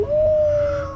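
A dog in the video game Fallout 4 lets out a single close, high, drawn-out whimpering howl that holds steady for about a second, no talking.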